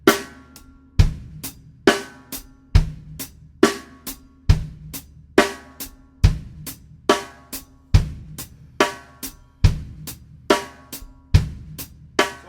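A steady drum groove with crisp hi-hat strokes, the off-beat hits accented louder, repeating evenly with kick thumps underneath; no voices.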